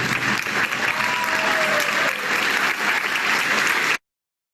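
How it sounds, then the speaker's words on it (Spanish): An audience bursts into loud, sustained applause to welcome a speaker, dense clapping filling the room for about four seconds before cutting off abruptly. "Recibamos de pie y con un fuerte aplauso, con ustedes, Jürgen Klarik"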